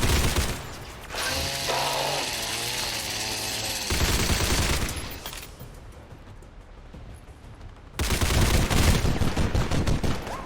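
Black Legion gunfire in XCOM 2 arrives as loud bursts of rapid shots mixed with clanking, ratcheting mechanical sounds, fading into a quieter stretch before a final heavy volley.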